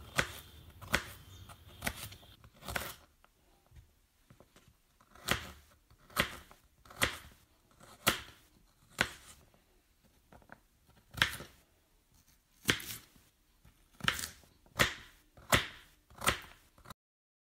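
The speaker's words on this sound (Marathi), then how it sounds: "कवळ्या भेंडीचे आपल्याला अशा प्रकारे काप करायचे आहेत।" Tender okra being sliced on a board, a series of crisp knife chops in uneven bursts, close and clear with short pauses between groups of cuts.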